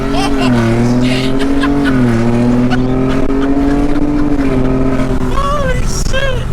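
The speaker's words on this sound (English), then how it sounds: "that was the gnarliest 4-wheel drive launch I've ever done" A lifted four-wheel-drive truck on new coilovers and upper control arms launches hard, its engine note climbing in a steady loud rising drone with a shifting pitch, while an excited voice shouts over it near the end.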